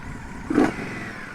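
An Indian Scout Bobber motorcycle, fitted with aftermarket exhaust pipes, gives a single short rev with a deep rumble, heard close over a steady idle and otherwise alone.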